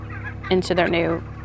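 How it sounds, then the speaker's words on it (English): Turkeys being walked across a farm pasture let out a quick burst of gobbling and clucking, close by and fairly loud, over a low steady background hum. "So the boys' job is to walk the turkeys across this pasture"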